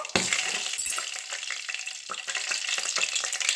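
Cumin and mustard seeds sizzle and crackle steadily in hot oil, with scattered little pops throughout and nobody talking.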